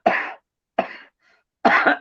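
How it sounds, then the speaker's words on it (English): Three short, harsh dry coughs, close and loud, separated by brief pauses of silence. "it's a dry cough"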